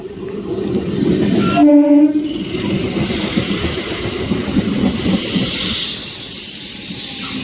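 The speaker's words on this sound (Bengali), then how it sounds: "দেখো পড়াশোনা ভেদ করে আমাদের ট্রেন ঢুকছে বর্ধমান যাওয়ার কাটা থেকে আসছে ট্রেনটা" A train on the Bardhaman line rumbles close by on a foggy winter morning with hissing and clattering wheels, and a loud horn blast sounds briefly near the start before the rolling noise continues.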